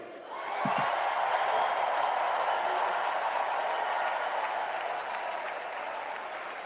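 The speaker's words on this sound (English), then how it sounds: "Folks, the crowd is screaming here at the arena." Convention arena crowd cheering and applauding in a steady, loud roar of clapping and screams that holds for several seconds, alone with no speech over it.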